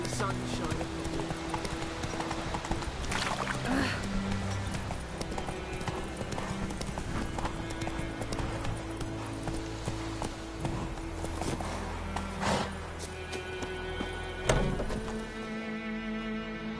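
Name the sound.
horse galloping in a video game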